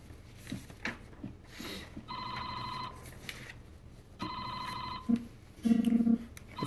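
An electronic telephone ring in the Famicom Detective Club video game sounds in two bursts of warbling beeps, followed by short low blips of game sound effects.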